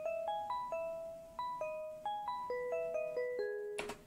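A bell sound from the Purity synth plugin plays a melody in a beat, with clear struck notes that ring and decay in a steady rhythm. A bright burst of noise ends the phrase.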